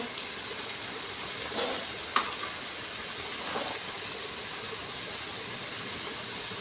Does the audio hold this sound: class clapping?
no